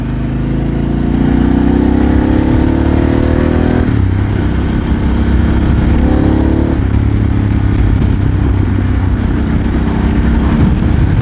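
A Harley-Davidson Pan America motorcycle accelerates hard in third gear, engine roar rising in pitch, dropping briefly at a shift, then climbing again, loud and close throughout with no talk.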